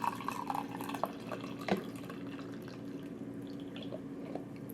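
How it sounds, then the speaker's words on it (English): Brewed Ti Kwan Yin oolong tea is poured into a cup, a quiet steady trickle with a few small drips and splashes, faint against a low background hum. "But I'm going to go ahead and pour this in."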